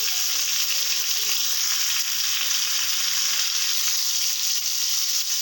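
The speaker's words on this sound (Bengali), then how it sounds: "পটলগুলো আমার ভাজা হয়ে গেছে।" Pointed gourd (potol) pieces frying in hot oil, a loud, steady, close-up sizzle that holds evenly throughout with no talking.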